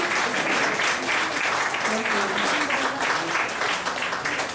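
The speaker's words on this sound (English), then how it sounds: "Round of applause, everyone." An interfaith gathering crowd claps loudly and steadily for several seconds, a dense wash of applause that tapers slightly at the end.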